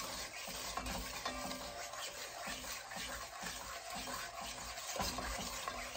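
Sugar melting in a pan for pecan candy is stirred with a steady, rhythmic scrape, and a soft continuous crackle sits underneath the whole time.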